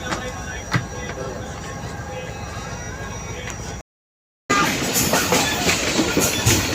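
Hazara Express passenger train standing at a platform beside hills, with a steady mechanical rumble and hiss around the carriages and a short silent gap partway through; people talk in the background.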